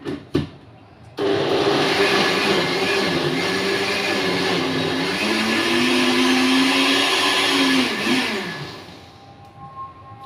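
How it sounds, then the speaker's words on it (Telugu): A kitchen mixer grinder whirs loudly and steadily for about seven seconds while grinding peanut chutney with green chillies, tomato and tamarind, its motor pitch wavering before it winds down, with short knocks before and after. "శనగకాయల పచ్చడి అయితే నున్నగా అయితే మిక్సీకి పట్టుకోకూడదండి"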